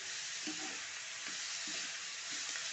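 Onion sautés in a pan for pea curry, a steady loud sizzle with a few soft stirring scrapes underneath.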